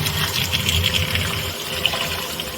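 Coriander leaves being washed in water in a home kitchen while preparing beef biryani, a steady running, splashing gush close by with no talk.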